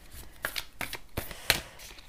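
Tarot cards are shuffled in a quiet room, a series of quick crisp riffling snaps and slides at close range, with no talking.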